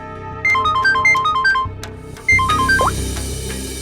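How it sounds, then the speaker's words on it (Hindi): A telephone rings with a bright electronic melodic ringtone, two bursts of rapid repeating tones close and loud, with a short gap between them. "उसका फोन तो आता ही होगा अभी।"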